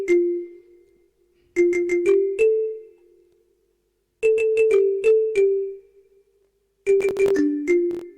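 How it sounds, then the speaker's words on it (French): Marimba from an FL Studio plugin playing short melodic phrases of quick mallet notes, four bursts separated by silences, each note struck crisply and ringing briefly, with no voices. "Mais nous allons quand même équaliser notre marimba."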